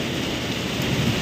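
Hail pelting down during the year's first hailstorm, a dense, loud, continuous hiss of pattering strikes with no pauses and no voices.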